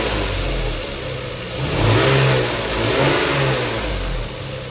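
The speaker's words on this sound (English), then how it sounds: "use the accelerator cable spool to give the engine a few revs" A Lexus GS 300 2JZ-GE engine, freshly fitted with new spark plugs, revs up twice from idle via the accelerator cable spool, rising and falling in a smooth, close mechanical roar with no talking.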